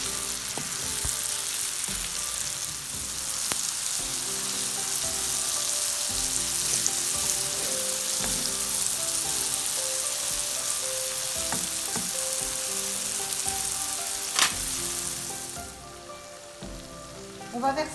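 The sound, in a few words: apples stirred and sizzling in butter in a pan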